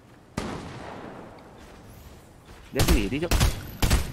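Gunfire in the video game Fortnite: a sharp shot near the start, then a dense cluster of loud bursts late in the clip, with people talking throughout.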